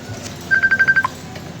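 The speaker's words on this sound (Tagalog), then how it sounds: "May tumatawag sa'yo." An incoming call on a cellphone chimes as a quick run of six short, even electronic beeps, then one lower final note, fairly clear over quiet room hiss.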